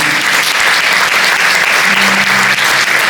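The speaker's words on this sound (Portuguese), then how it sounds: "Você pode aplaudir a esse Jesus?" A Sunday church congregation applauds loudly and continuously, dense clapping filling the whole stretch, with a faint sustained tone from music or voices underneath.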